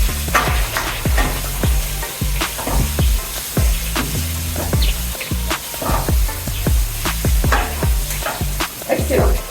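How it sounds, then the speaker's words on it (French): Meat browning in a hot pan over high heat, a loud, close, continuous sizzle punctuated by frequent sharp scraping and clattering stirs in an irregular rhythm, no talk. "vous pouvez augmenter mon feu pour que la viande dore plus rapidement"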